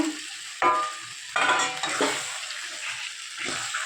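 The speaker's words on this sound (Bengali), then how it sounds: "এবার মটনগুলো দিয়ে দিচ্ছি এর মধ্যে।" Mutton pieces and potatoes frying in spiced oil in a pan for a Bengali mutton kosha, stirred with several scraping strokes over a steady close sizzle.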